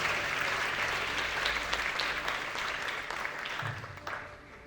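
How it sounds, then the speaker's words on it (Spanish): Applause from an audience at a Christian youth congress, sustained broadband clapping filling the room at steady loudness before tapering slightly toward the end. "Bríndale un fuerte aplauso al Rey de Reyes y Señor de Señores."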